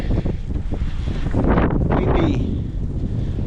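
Gusty wind buffets the microphone with a steady low rumble that swells and eases, close and loud throughout.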